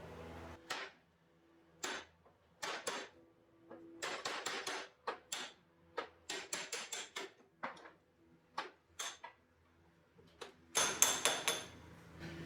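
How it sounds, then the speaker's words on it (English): A leaf spring center sleeve is hammered out of a leaf pack clamped to a table: a series of sharp metallic strikes at an irregular pace, some in quick bursts, with quiet gaps between. "I'm just going to drive out the center sleeve."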